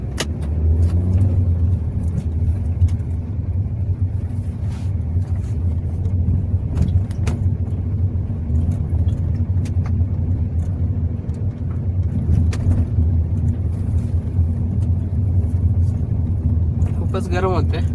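A car driving along, its engine and road noise giving a steady, loud, close drone throughout, with a voice talking over it.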